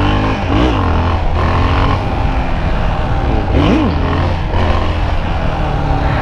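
Motorcycle engine revving hard in repeated loud bursts while a rider practices wheelies, the throttle rising and falling through several surges over a constant close engine roar.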